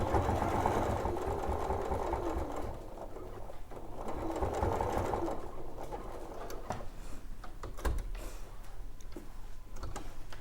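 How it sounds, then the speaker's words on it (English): A sewing machine stitches a London Bus and Soldier mini quilt in a steady, close, continuous whirr with slight changes in pace and a few clicks, running alone with no talk. "So I'm sewing right off the end into the excess and then back across."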